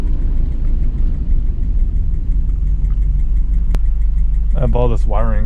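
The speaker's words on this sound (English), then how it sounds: "You can hear the turbo spooling." A Subaru Impreza 2.5RS with an EJ205 turbo engine while driving: a steady loud low engine drone with faint turbo whine, and a voice speaking briefly at the end.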